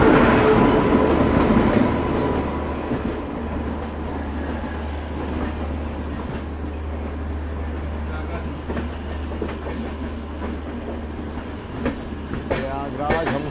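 Prayagraj Humsafar Express passenger train running by with a steady low rumble and rail clatter, loud and close throughout, with faint voices at the start.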